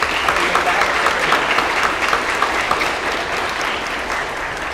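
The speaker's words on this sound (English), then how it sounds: "let's give yourselves a round of applause for all you" School staff at a military flagship school award ceremony receive a steady round of dense applause from a large indoor crowd, close and sustained with no pauses, with no talking.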